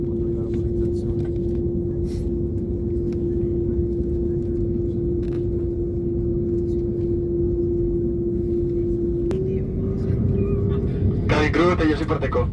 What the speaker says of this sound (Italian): Dai motore al massimo tra un po' quando arriva la motorizzazione.